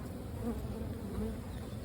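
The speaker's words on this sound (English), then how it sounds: "Look at all of the bees down in there." A dense mass of honeybees hums steadily inside the brood chamber of a newly installed nuc hive during an inspection, a continuous close, low buzzing with no talk.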